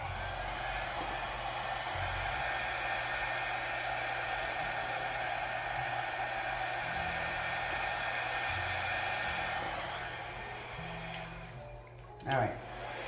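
Small purple hair dryer running on low, blowing a steady whirring stream of air across fluid paint, close and continuous before cutting off near the end with a brief bump.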